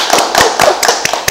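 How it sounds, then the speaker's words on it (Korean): Audience clapping, a quick run of sharp, separate hand claps in an uneven rhythm, close and fairly loud, lasting only a moment. "여러분 박수 안 치십니까?"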